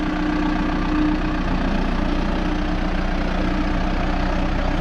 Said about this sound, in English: We got Josh out here unloading the backhoe.